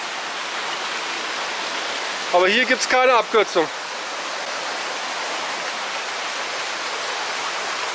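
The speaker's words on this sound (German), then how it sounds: "So, das Wasser kommt hier aus dieser Höhle." Water flows out of a rock cave spring as a steady, broad rushing hiss that continues throughout, close and fairly loud, with someone briefly speaking over it partway through.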